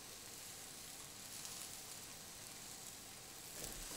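Sausage meatballs brown in a frying pan with a faint, steady sizzle that stays even and continuous throughout.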